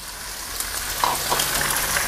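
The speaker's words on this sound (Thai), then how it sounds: "พอไข่สุกได้ประมาณนี้ให้เราใส่เส้นใหญ่ลงไป200กรัม" Wide rice noodles stir-fried with egg and chicken in a hot pan, a continuous close sizzle and frying hiss with faint stirring scrapes, no talk.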